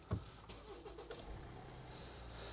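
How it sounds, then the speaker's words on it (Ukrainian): A 2009 Kia Sorento 2.2 CRDi diesel starts up quickly, a brief cranking burst followed by a steady low engine idle heard close from inside the cabin. "З півоборту заводиться."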